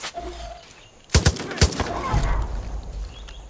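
Rapid bursts of automatic gunfire crack out in Far Cry 5, loud and close, with a couple of heavy volleys followed by a rattling fusillade and faint background noise.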